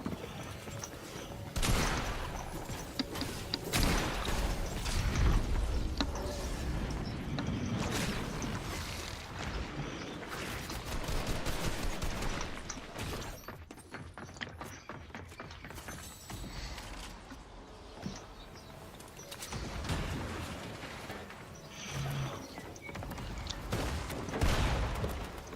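Gunfire in the video game Fortnite, rapid bursts and scattered shots at low level running throughout, mixed with game mechanisms and effects.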